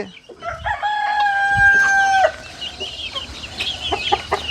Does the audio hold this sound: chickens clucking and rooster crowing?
yes